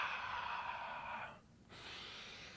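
A steady, soft inhalation during a squat, close and quiet, with a brief pause before the airy breath resumes.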